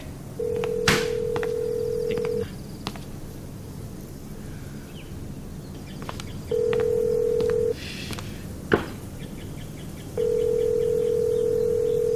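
A telephone is dialed: three long steady tones sound in turn, with a quick run of short keypad beeps and faint clicks in between.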